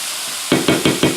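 Chopped garlic, four cloves, hitting a skillet heated to 400, stirred in four quick, evenly spaced bursts of loud sizzling and scraping after a quiet start.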